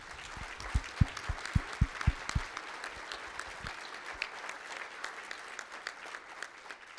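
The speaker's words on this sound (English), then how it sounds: "So a round of applause for Gary and Kathy Bussing." An audience at a charity breakfast gala gives a round of applause for two honored supporters, starting with a burst of strong, separate claps that thin into a softer, scattered patter over a steady room hum.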